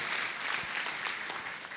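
Congregation at a church service clapping together, a steady dense wash of applause filling the whole short stretch at close range.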